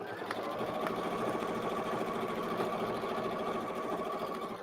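A sewing machine stitches a seam with a half-inch seam allowance, running as a steady, fairly quiet mechanical whir that holds evenly throughout.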